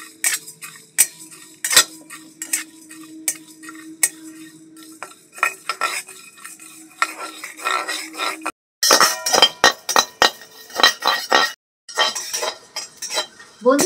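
Whole cumin, coriander and garam masala spices being dry-fried and stirred in a pan for muri ghonto, with repeated sharp metallic clinks and scrapes of a spoon against the pan, near and alone.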